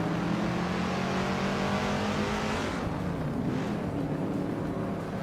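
A 1977 Opel Kadett C Group 3 race car engine drones loud and steady on a tight short track, a sustained revving roar that dips briefly as the car passes, with no talk over it.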